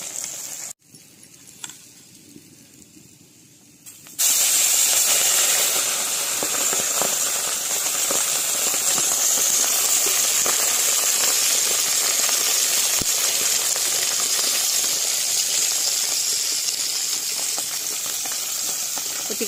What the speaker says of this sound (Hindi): माछ भजा चलछि